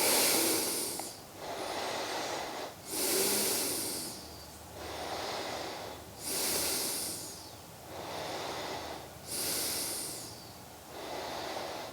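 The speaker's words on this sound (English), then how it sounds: "Breathing here." Slow, deep breathing during a seated yoga twist, with about eight long, close, audible inhales and exhales in an even rhythm and no talking.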